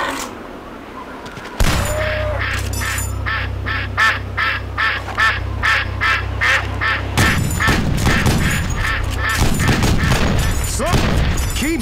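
Rapid gunfire in the hunting survival game Cabela's Survival: Shadows of Katmai rattles off as an evenly spaced burst of close, loud shots. Scattered shots follow over a low rumble, and voices speak near the end.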